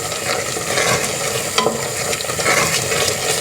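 Risotto rice, with onion cooked in, being stirred in a hot pan during a saffron risotto, giving a steady close sizzle with soft scraping strokes and no talking.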